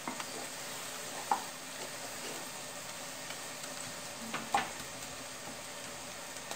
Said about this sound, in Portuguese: agora é só deixar fritar bem aqui a cebola e o bacon